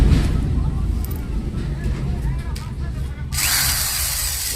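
Electric drill motor spinning steadily, a low running whir under background noise; a brighter, harsher burst of whirring kicks in near the end as the speed rises.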